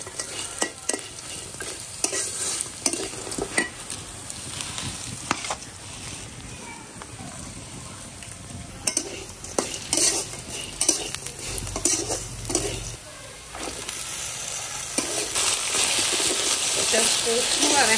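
Raw lentil dumplings fry with browned onions in a pan, a steady sizzle with irregular spatula scrapes and clinks against the metal, close by, and speech is faintly present at times.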